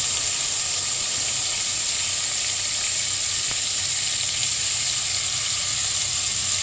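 Whole spices such as cinnamon, fennel and bay leaf fry in hot oil with small shallots, producing a loud, constant hiss and sizzle that stays even throughout, close up with no speech.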